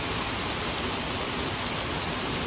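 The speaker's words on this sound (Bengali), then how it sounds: "এই 7:30টায় প্রচুর বৃষ্টি, দেখছেন আপনারা?" Heavy morning rain falls in Singapore, a dense, steady roar of downpour that stays loud and even from start to finish with no voices.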